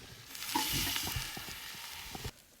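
Steak sizzling and frying on big hot rocks pulled from a campfire, a steady close crackle with a few soft stirring knocks, alone and without voices.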